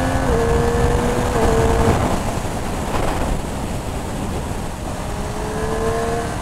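Triumph Street Triple 765 RS motorcycle from 2020 accelerating hard with quickshifter upshifts, engine note rising and dropping in steps, heard up close from the rider's position against heavy wind rush throughout.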